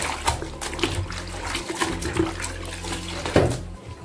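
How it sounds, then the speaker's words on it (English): Running water from a tap splashing steadily as a denture is scrubbed by hand beneath it, with soft irregular sloshes and rubbing, close and fairly quiet. "give this one a good wash with my hands"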